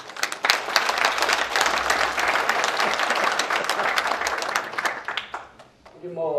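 Audience applause fills a hall at a Korean alumni association chairman's inauguration ceremony and New Year gathering, a dense steady clapping that holds for several seconds before thinning out, with a voice starting up at the end.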